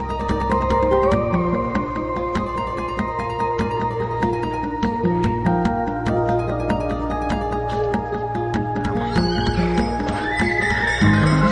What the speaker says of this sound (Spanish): los caballos cartujanos de largas crines que nunca pierden el compás